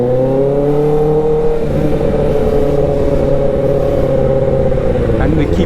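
A motorcycle engine held in first gear while lane splitting in traffic drones loud and close with a steady rising whine, tone shifting slightly partway through.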